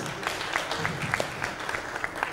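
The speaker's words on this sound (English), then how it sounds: "A round of applause, a round of applause." Audience at a Uganda–Tanzania investment conference claps for a dignitary taking the stage, a moderate, somewhat distant patter of applause with individual claps audible.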